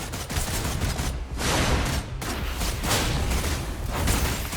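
Rapid video-game gunfire from a skill attack in Wuthering Waves, a loud dense barrage of shots with brief dips, sustained and close throughout.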